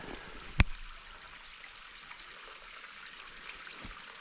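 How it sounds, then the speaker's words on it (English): A small spring-fed trickle of water runs down a mountain rock face beside large boulders, a faint, steady wash of sound with one sharp click near the start. "There's just a little trickle of water coming down."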